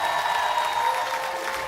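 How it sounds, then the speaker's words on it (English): A crowd claps for two people being recognized at a Saturday session, steady sustained applause with a faint tonal hum running beneath it. "give Mark and Nuvia a big round of applause"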